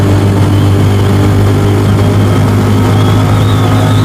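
A Venom X22R motorcycle engine held steady at high revs in third gear while riding, a loud, continuous buzzing drone with a strong low hum and no break.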